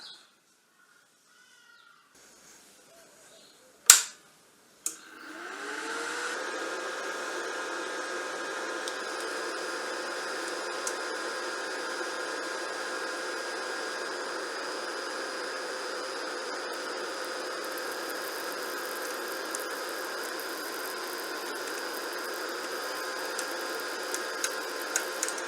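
Wire feeding through the MIG gun of a Pinnacle MIGARC 165 welder: after a click and a short bang, a steady motor whir with a constant tonal hum starts and runs on at an even level.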